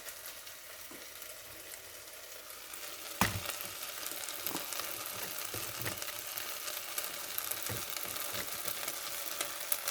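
Rice sizzles and fries in a hot pan for Spanish rice, a steady crackling hiss with scattered pops, growing louder after a sharp clatter partway through, with no voices.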